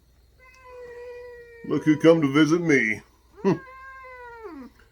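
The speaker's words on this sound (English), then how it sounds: "She's not a very happy cat." An unhappy, feisty 18-year-old cat lets out a long, loud, wavering yowl, followed by a short meow and then a falling drawn-out cry, with someone talking over part of it.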